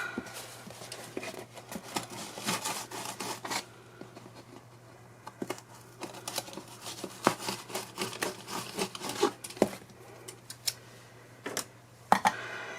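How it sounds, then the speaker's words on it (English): Repeated small snips and rustles of scissors widening holes in paper-bag paper, irregular clicks and scraping up close, with quiet pauses between. "I'm just gonna make the holes a bit wider with my scissors"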